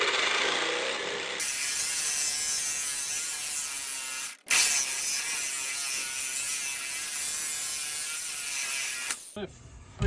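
A ratchet clicking rapidly on a stubborn bolt during the teardown of a backyard car build, close and loud in long continuous bursts with brief pauses between them.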